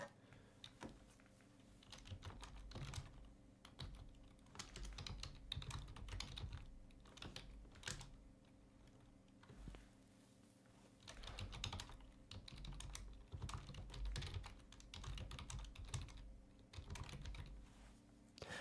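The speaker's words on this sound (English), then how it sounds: "I don't know why I type." Close, steady typing on a computer keyboard, bursts of quick key clicks broken by short pauses, going on for nearly twenty seconds with no talking.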